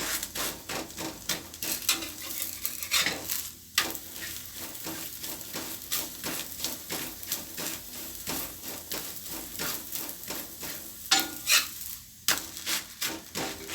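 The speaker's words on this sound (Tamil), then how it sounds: "அப்படியே ரெண்டு பக்கம் திருப்பி திருப்பி நம்ம இப்படியே வேக விட்டுக்கலாம்" A chapati cooking on a hot pan and being turned from side to side gives off a steady soft sizzle with scraping and rubbing sounds. Sharper clacks come from the pan now and then, and no one speaks.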